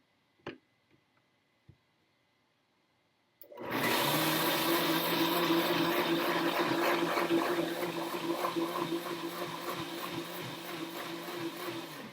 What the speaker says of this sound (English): I'm going to have to blend half of it in my blender